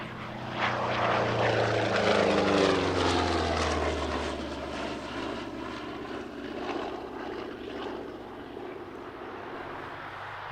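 A P-51B propeller fighter flies past at an airshow, its piston engine rising into a loud roar with a falling Doppler pitch, then fading into a steady distant drone.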